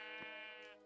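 A single sheep bleat from the Minecraft video game, one short, wavering, nasal call that fades at the end, heard clearly with no talk.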